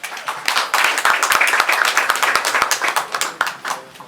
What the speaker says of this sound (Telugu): అందరూ చప్పట్లు కొట్టు